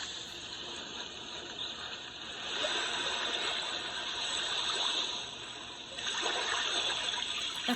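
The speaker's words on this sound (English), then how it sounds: "Waves." White noise speaker playing an ocean waves setting, a steady broadband wash that swells louder and softer in slow surges, continuous and close with no talk.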